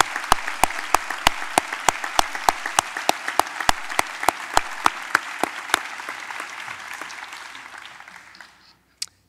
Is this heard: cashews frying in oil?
no